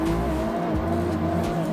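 Manual BMW 1M drifting in the Assetto Corsa racing game, with a steady engine note and tire squeal running continuously and loud throughout, with no talk.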